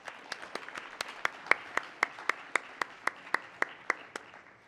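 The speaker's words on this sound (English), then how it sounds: "Let's give another round of applause for this wonderful panel, please." Applause for a conference panel on the future of warfare: sparse, evenly spaced hand claps, about a dozen and a half sharp smacks in steady rhythm, fairly faint in a quiet hall with no voices.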